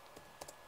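A few soft keystrokes on a computer keyboard, three light clicks within a fraction of a second, faint and close against a quiet background.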